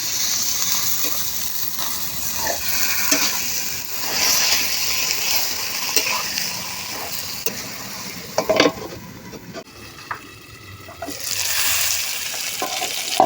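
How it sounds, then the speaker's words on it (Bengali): Pepoli greens fry in a pan with turmeric and a sprinkle of salt while a spatula stirs them, giving steady sizzling with repeated scraping and clattering strokes and a few sharper knocks near the end, with no voices. "শাকটাকে আবার আর একটু নাড়াচাড়া দেবো"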